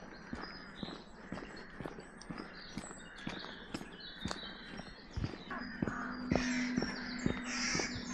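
Crows caw repeatedly outdoors on a hike, harsh calls at middle distance over a quiet background, mixed with steady clip-clop knocks like hooves or footsteps.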